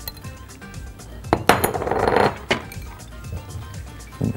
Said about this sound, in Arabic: هننزل في الصوص ده العدس على طول عشان ياخد من طعم الصوص.